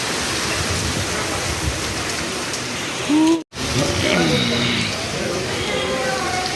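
A close, steady wash of heavy rain falls outdoors, with someone talking over it and a brief dropout in the middle before the downpour resumes.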